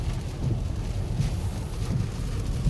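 Steady rain falls outdoors in a small Turkish town, a continuous dense hiss and patter with low rumbling wind noise on the microphone, fairly close and without talk.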